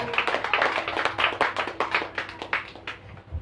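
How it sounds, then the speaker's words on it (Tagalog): A church congregation claps during a worship service, a moderate crowd of hands in quick, irregular bursts that gradually thin out toward the end. "pwede pa pumalakpak ka na malakas sa Panginoon"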